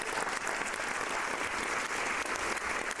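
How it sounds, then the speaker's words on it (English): An audience at a tech community keynote applauds steadily, a dense, even wash of clapping from a large room that holds constant for the whole stretch with no voices over it. "give yourselves a round of applause"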